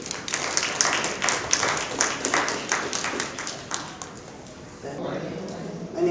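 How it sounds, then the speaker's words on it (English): Audience clapping at a community conversation on nutrition and food security: a scattered round of claps for about five seconds that thins out, after which a voice starts speaking. "You owe yourselves a round of applause."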